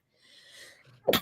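A single sneeze, soft breathy intake followed by a sharp loud burst at the end, close to the microphone with no talk.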